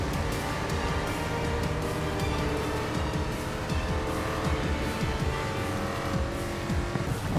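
Race cars from the racing video game GRID Legends roar steadily throughout, with continuous engine drone and tire squeal as they brake hard and jostle to overtake, loud and unbroken with no talk.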